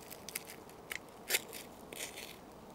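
A ferro rod fire steel struck against a striker, throwing sparks onto thin wood shavings outdoors: a few sharp scraping rasps, one louder, spread over a quiet background.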